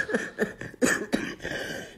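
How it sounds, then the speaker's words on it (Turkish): A person coughs several times in a row, close and loud, in short harsh bursts with a throat-clearing quality and brief pauses between them. "Bu öksürü de kesmeyeceğim."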